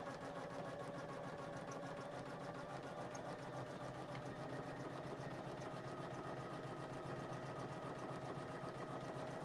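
A Poolin single-needle embroidery machine stitches continuously, giving a steady, fast mechanical whir and needle patter at an even, close level with no talking.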